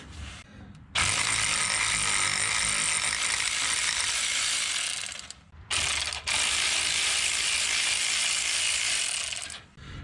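Rapid ratchet wrench clicking while backing out exhaust manifold bolts on a Nissan Altima 2.5L, a long steady close burst, a brief pause, then another sustained run of ratcheting.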